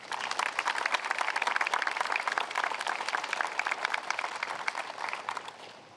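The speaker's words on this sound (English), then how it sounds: "One more round of applause for them." Sustained audience applause at a school promotion ceremony, many hands clapping steadily and densely for several seconds before tapering slightly at the end, with no talk over it.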